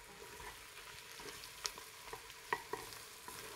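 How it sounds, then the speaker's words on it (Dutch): Galangal, ginger, lemongrass and chilies frying in a pan for Indonesian goat or lamb gulai, a steady sizzle broken by several sharp scrapes and clinks of stirring. "De laos, de gember, de seree en de lombokjes erbij. Bakken we dat ook eventjes mee."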